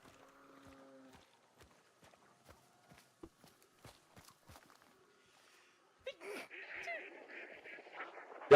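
In the video game Hunt Showdown, a run of soft footsteps crunches along before a flock of ducks breaks into a loud burst of nearby quacking and flapping.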